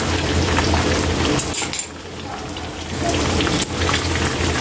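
Water runs and splashes steadily while a frying pan (kawali) is washed after cooking pork chops, with rinsing hiss and light metallic scraping, briefly dipping once before continuing close up.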